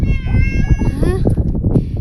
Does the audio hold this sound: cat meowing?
yes